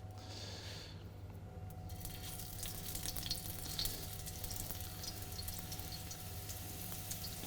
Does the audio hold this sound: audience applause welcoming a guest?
no